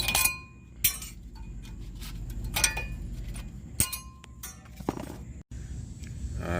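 Metal bolts and hardware from the rear brake caliper bracket of a 2014 Nissan Altima 2.5 clink against each other during a brake job, several sharp bright clinks spread over a steady low background hum.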